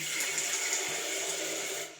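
Water runs steadily from a tap into a bathroom wash basin, a continuous hissing splash heard close up that stops at the end.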